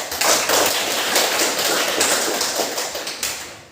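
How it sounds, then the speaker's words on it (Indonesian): Classroom applause for a student group: a dense, steady patter of many hands clapping at once, fairly loud and sustained, trailing off at the end without voices. "Kita berikan aplaus dulu untuk kelompok 1."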